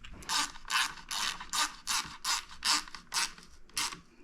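A ratchet tightening a PowerBronze hand guard on a Ducati Monster 937/950 motorcycle, about ten evenly spaced, crisp clicking bursts, close and fairly loud, with no talking.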